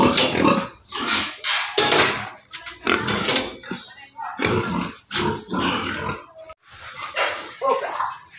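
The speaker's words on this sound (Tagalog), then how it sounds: "Ayun po yung baboy nagbababag." Pigs being weighed as future breeding sows grunt and squeal in loud, close bursts, mixed with people talking nearby.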